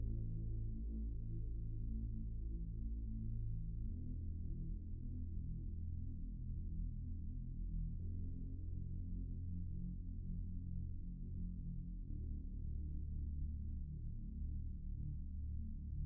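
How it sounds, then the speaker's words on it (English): A sub bass synth preset from Analog Live Pro drones low and smooth with heavy but controlled reverb, its sustained notes shifting pitch every few seconds, quiet and alone. "It sounds like a sub bass that has a lot of reverb in it, but it's kind of controlled so it doesn't sound very wacky."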